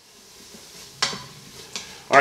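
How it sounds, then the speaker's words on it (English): Vegetables sautéing in an Instant Pot give a soft, low hiss, broken by three sharp scraping clatters of a utensil against the pot, the last one loudest. "I just want to saute those until they get nice and soft to bring out more flavor from the vegetables"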